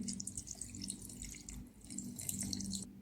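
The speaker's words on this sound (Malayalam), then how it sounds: "ഈ വെള്ളം തന്നെ ഒഴിച്ചു കൊടുത്താൽ മതി അരയ്ക്കാനായിട്ട്" Water pours into a mixer jar holding soaked rice, a steady, gurgling splash that runs for about three seconds at close range.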